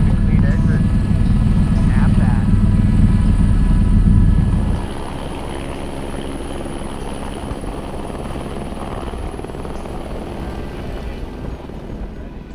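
A helicopter lands in snowy Alaskan mountains for heli skiing, its loud rotor and turbine roar steady close by before dropping sharply to a lower idling hum.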